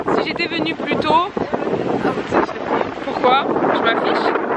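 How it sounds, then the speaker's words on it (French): Strong outdoor wind in Montreal buffets the microphone with loud, steady rumbling gusts, while someone talks over it throughout. "Oula, le vent, vous m'entendez? Il y a trop de vent."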